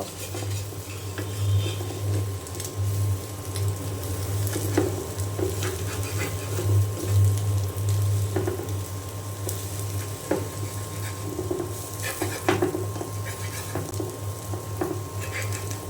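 Egg and potato frying in a pan on an electric stove, a steady sizzle broken by repeated scraping and clinks of a utensil stirring and turning the pieces against the pan.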